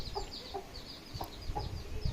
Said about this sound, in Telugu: ఇంకా కోడి కూడా పిల్లల్ని పెట్టింది చూడండి.